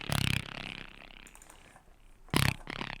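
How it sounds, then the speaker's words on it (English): A synth drone from Ableton's Operator plays in two short buzzy, growling bursts with a quiet tonal tail between them, close and moderately loud. "And I have this operator."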